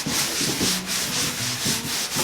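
Steady back-and-forth rubbing of sandpaper on wooden attic floorboards in an old Japanese farmhouse being restored, a close, continuous rasping hiss with a gentle rhythmic pulse and no talking.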